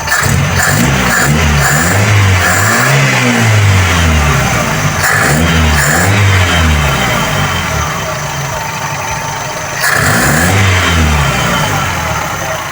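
A Toyota 2E carburetor engine is revved repeatedly during idle adjustment, giving loud close swells that rise and fall in rhythmic bursts before settling to idle. Someone talks over it.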